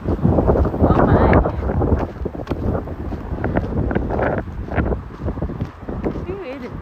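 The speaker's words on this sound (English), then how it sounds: "Ooh, it is windy." Gusty wind buffets the microphone during an outdoor walk through a small town on a spring day, loud rumbling bursts that rise and fall beneath a person talking.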